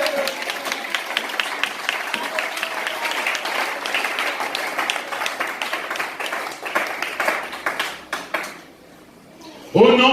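A church congregation claps loudly and steadily for the Lord after a sermon. The dense applause lasts several seconds, then dies away into near quiet before a sudden close noise at the end.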